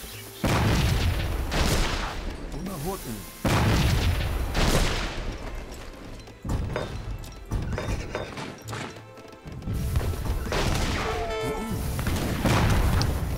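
Gunfire and cannon shots in a battle in the video game Age of Empires III, repeated loud booms and crackling volleys overlapping in dense bursts across the whole stretch.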